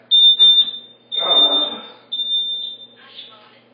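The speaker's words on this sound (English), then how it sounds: "Y'all hear my fire alarm going off?" A kitchen smoke alarm shrills in repeated high-pitched beeps, loud and close, with a person talking over the alarm in the gaps and a burst of clattering noise partway through.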